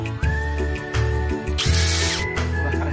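A power drill runs in short bursts, its bit skidding without a center punch, chattering and scraping harshly against a Daihatsu Hijet's metal body with a loud hissing screech in the middle.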